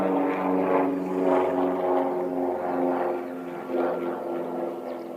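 Aircraft passing overhead at Christchurch Airport, a steady broad engine roar with propeller-like drone that swells and shifts slightly as it passes, moderately loud and continuous with no talk.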